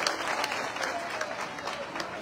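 Crowd applause at a welcome ceremony, a steady wash of many hands clapping at close-to-middle distance, dense and continuous with a few sharper bursts throughout.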